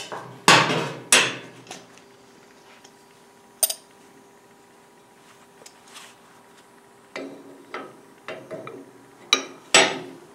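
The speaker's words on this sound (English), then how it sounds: "using the air hammer again." Sharp, loud impacts from an air hammer removing springs from a Frazer rototiller, in short bursts with quieter pauses and clinks between, close by and without talk.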